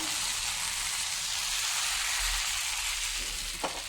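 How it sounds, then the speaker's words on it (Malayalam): Palappam batter made from ration raw rice cooking in a hot appam pan, a soft, even sizzle and crackle held steadily throughout, with a faint clink near the end. "അപ്പച്ചട്ടി ചൂടാകുമ്പോൾ നമുക്കതിലേക്ക് മാവ് ഒഴിച്ചു കൊടുക്കാം"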